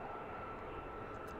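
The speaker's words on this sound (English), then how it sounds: "that's another JetBlue coming out to the runway" JetBlue airliner taxiing out to the runway at Washington's DCA, heard from Gravelly Point as a steady, moderately distant engine roar for a brief moment.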